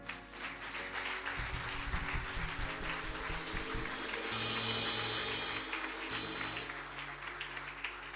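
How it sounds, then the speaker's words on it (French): Sustained applause from a worshipping audience at an all-night Holy Spirit prayer service, steady and full throughout, with a brighter burst of clapping partway through and no speech over it. "On acclame Dieu."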